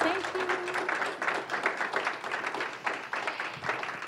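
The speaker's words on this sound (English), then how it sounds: "let's give Haretta a huge round of applause" Audience applause at the close of a talk on balancing mental health and business, a dense, steady patter of many hands clapping for about four seconds, with voices mixed in.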